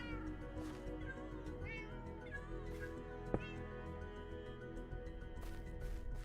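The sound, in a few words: cats meowing in Minecraft, video game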